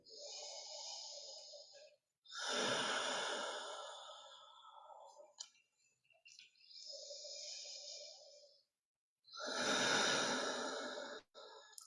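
Slow, deep breathing during seated chair yoga, close and quiet: long airy inhales alternating with long exhales, about two full cycles with pauses between.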